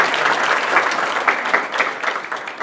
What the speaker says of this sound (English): So if we could give a round of applause to our hosts here at the